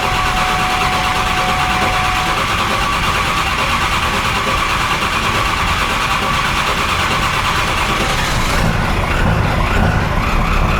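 A triple-turbocharged 7.3 diesel engine runs loud and close, a constant heavy tractor-like rumble that holds steady throughout, with a slight change in tone near the end.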